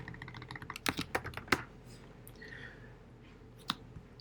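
Keys clack on a computer keyboard in a quick burst of several close, crisp strokes, then a pause and one last isolated tap, all near and fairly quiet with no talking.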